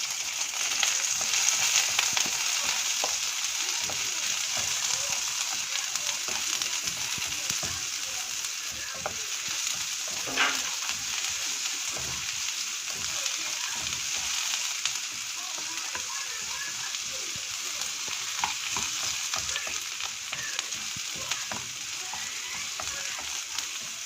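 Onion frying in a pan while cooking chili garlic prawns, a constant close hiss of sizzling oil with occasional stirring scrapes throughout.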